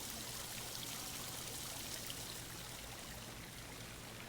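Steady rushing flow of water, like a waterfall or stream, broad and continuous at low level with no voices, heard as a soft meditation background.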